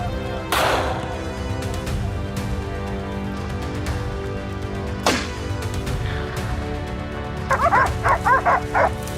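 Hunting dogs bark and yip during a wild boar hunt in a forest, with a few sharp loud barks standing out early and a burst of rapid yelping near the end over a constant busy background din.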